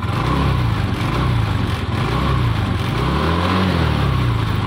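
A fuel-injected motorcycle engine is throttled up close, its loud roar climbing and dipping in pitch as it revs, now without hesitation.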